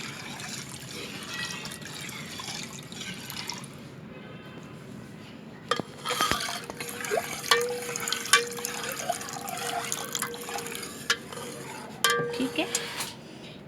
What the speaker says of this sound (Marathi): मिक्स करून घ्यायचं सगळं